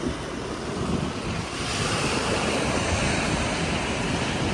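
Ocean waves washing onto a beach in Mauritius make a steady, broad roar of surf that swells slightly louder partway through, with no voices over it.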